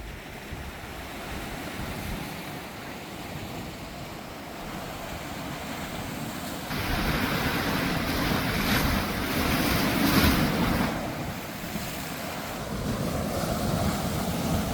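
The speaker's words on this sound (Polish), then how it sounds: "Ale morze wzburzone." Rough, churning sea surf at Funtana beach near Poreč, Croatia, a continuous wash of breaking waves with wind buffeting, swelling louder midway through, with no voices.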